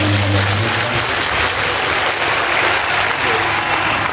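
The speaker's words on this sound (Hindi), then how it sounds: "एक बार यजमान परिवार के लिए जोरदार तालियों का स्वागत" Loud, dense applause from a large audience at a Shiv Mahapuran katha religious gathering fills the whole stretch without a break, with crowd noise close and sustained.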